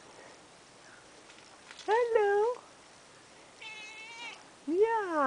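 Cat meowing several times, close and clear, short rising-falling cries with pauses between them, over a quiet background with a person speaking briefly.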